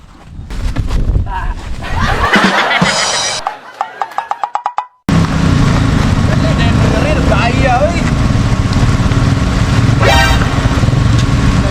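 A motorcycle engine runs loud and close, revving unevenly, with brief horn toots and voices mixed in.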